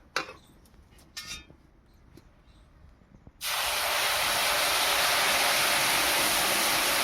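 After a quiet stretch with a few faint clicks and knocks, water suddenly gushes out in a loud, steady spray that holds to the end.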